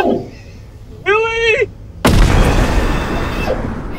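A bomb thrown in a horror-style multiplayer video game goes off as a sudden loud burst that cuts in and rolls into a long, noisy rumble, following a brief synthetic wail.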